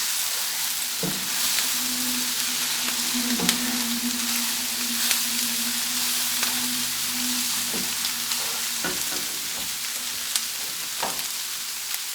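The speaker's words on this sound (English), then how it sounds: "Just let it sizzle." Steady, even sizzling of an omelet frying in a pan over a lowered flame, continuous and close, with a few faint clicks and a low hum behind it.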